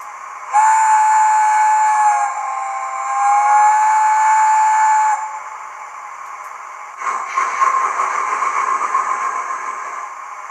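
Steam whistle from a model locomotive's sound unit, a long sustained tone with slight pitch wavering for several seconds, then a softer hissing burst of steam-like noise near the end.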